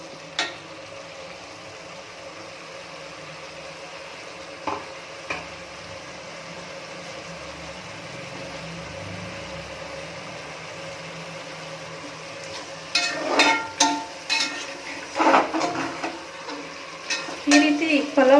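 Cabbage rice bath with masala paste frying and being stirred in a pan, a low steady sizzle through most of the stretch, then louder bursts of stirring and scraping near the end.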